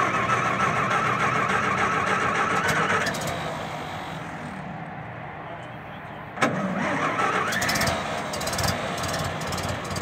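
A 1919 Templar Roadster engine cranks and catches, then runs steadily and loud up close at a show; after a brief dip the running resumes with a sharper rev, and people talk over it.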